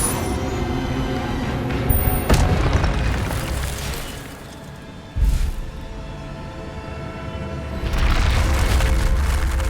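An Incendio fire spell bursts in Hogwarts Legacy, a loud whooshing blast over a busy, rumbling game soundscape, followed by further heavy booming bursts and a swelling roar of effects.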